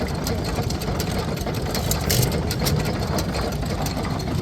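A vintage stationary engine runs at an outdoor engine rally, a loud steady chugging drone with rapid regular pulses and no break.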